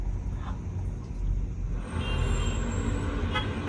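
A city traffic sound effect layered for a studio comedy mix: a low, continuous rumble of road vehicles with a brief car-horn toot partway through, busy and dense throughout.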